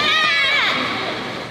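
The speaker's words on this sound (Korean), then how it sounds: "우리는 환호하는 거야. 예!" A group of young women on a music video set cheering together, a loud, close burst of high, overlapping shouts that trails off over about a second and a half.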